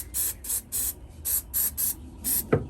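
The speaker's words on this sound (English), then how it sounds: "spray it on everything, get it everywhere" Protective spray being applied over a saltwater boat's engine and battery area, seven short hissing aerosol bursts in quick irregular succession, close and fairly loud, followed by a small knock.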